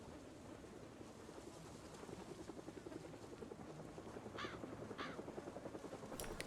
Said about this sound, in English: We have a helicopter coming, so we are just waiting for it to bring the zombies.